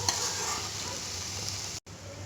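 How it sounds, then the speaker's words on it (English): Garam masala and jeera frying in a pan with steady stirring, a continuous close sizzle with a brief drop to silence near the end, no voices. "We'll keep stirring it well."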